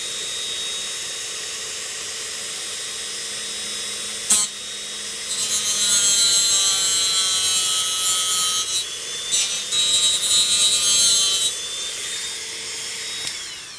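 A Dremel rotary tool cuts into a plastic model kit with a high, whining buzz that starts and stops in a few bursts over a steady background hum, close and fairly loud, with no talking.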